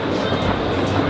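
A ride train at Blackpool Pleasure Beach rolls along its rails with a loud, close rumble and rattle of the cars, heard from the front seat as a steady running noise.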